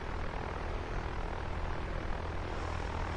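Steady, loud drone of a Cessna Skyhawk propeller engine in a PilotEdge flight simulator cruise, an unbroken hum with no voices over it.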